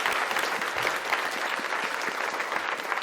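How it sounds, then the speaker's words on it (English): Dense, steady applause from an awards-ceremony audience congratulating a winner, a continuous wash of many hands clapping at once with no voices over it. "Big round of applause."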